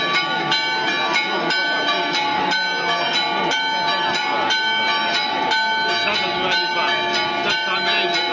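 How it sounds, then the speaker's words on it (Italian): The church bells of San Rocco ring in a steady, overlapping peal during a patronal feast procession in Trani, loud and continuous with bright, sustained tones. "Suono delle campane di San Rocco accompagna tutto il tragitto processionale."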